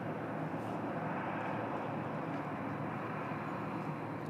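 Wide-body jets such as Boeing 777s taxi at Bangkok airport, a steady distant engine rumble and broadband roar holding evenly throughout with no voices.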